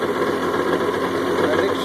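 Yamaha Blaster ATV engine idling slightly high after a carburetor rebuild, a steady, loud, close-up buzzing drone with constant vibration and no pauses.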